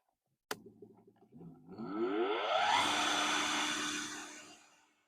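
A sharp click, then a 3 kW, 3000 rpm electric motor whirs up, its pitch rising quickly into a loud steady hum before it starts winding down.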